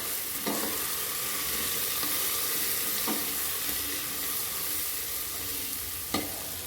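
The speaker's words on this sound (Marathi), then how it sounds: "छान तेलाव मसाले आपल्याला परतून घ्यायचे" Spices, green peas and potatoes sauté in hot oil with a steady sizzle and occasional scraping stirs, close and continuous, with no voices.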